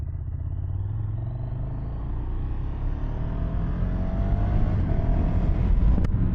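A 2018 KTM 1290 Super Duke R motorcycle in sport mode rides along the road, its engine a steady, close rumble that slowly rises in pitch under constant wind noise, with no voices.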